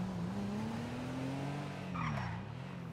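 The JB 700 sports car in GTA V braking into a long tire skid, a sustained squeal wavering in pitch over steady road and engine noise, close and loud with no talk.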